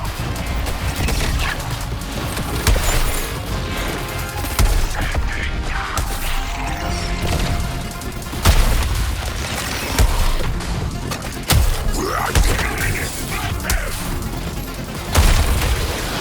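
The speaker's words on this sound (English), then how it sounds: "Laser blast imminent. Prognosis bad. Cannon volley overhead. Watch out." Repeated loud booms and crashes of cannon fire in Suicide Squad: Kill the Justice League, irregular volleys over a dense, busy background of effects and music.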